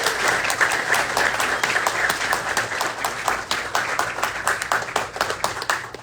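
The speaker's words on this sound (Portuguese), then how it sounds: "Receba com calorosos aplausos também." Warm applause from an audience at a political leaders' gathering, welcoming a state deputy to the stage. Steady, dense clapping holds through the whole stretch and thins slightly near the end.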